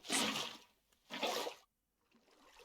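Water being placed in Minecraft gives two short bursts of splashing, flowing game water, each about half a second long, then a quieter trickle at the end.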